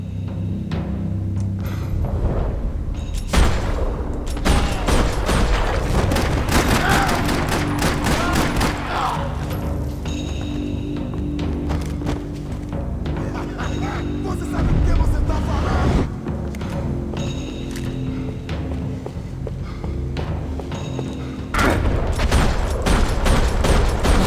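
Heavy Max Payne 3 gunfire rattles in rapid fusillades and booming shots over a continuous loud background, with a voice speaking across much of the action.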